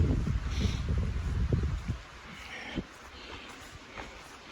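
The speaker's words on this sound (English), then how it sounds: "Wind's still blowing pretty hard" Strong wind gusting across a rocky, rooty mountain hiking trail on the Appalachian Trail, buffeting the microphone with loud low rumble in the first two seconds, then easing to a steadier, quieter blow.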